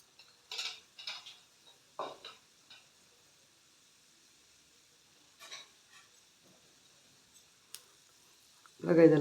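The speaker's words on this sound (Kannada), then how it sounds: "ಸ್ವಲ್ಪ ಕೆಂಪುಗೆ ಫ್ರೈ ಆಗಬೇಕು ಕಡಲೆಬೇಳೆ ಉದ್ದಿನಬೇಳೆ" Chana dal, urad dal and cumin frying in oil in a pan, with soft intermittent sizzles and light stirring clicks, mostly quiet between bursts, and a louder burst right at the end.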